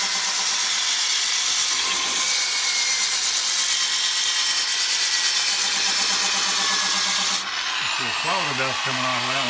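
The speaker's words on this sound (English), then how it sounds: "if I go through all the sanding grits, I will have a very well sanded bowl" A drill-powered sanding disc sands a wooden bowl turned from a log, a loud continuous grinding rasp that runs steadily, then cuts off near the end as the drill winds down.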